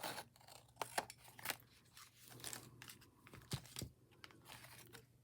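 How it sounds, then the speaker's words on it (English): Scissors snipping a thin sliver off the end of a paper envelope, with several quiet close cuts and paper crinkling amid low background hum. "So you just cut very little sliver off the end here."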